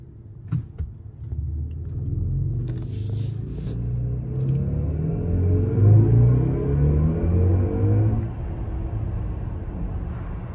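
A BMW iX M60 electric SUV accelerating, heard from inside as a low, steady rumble of road and motor noise that swells for several seconds and then eases.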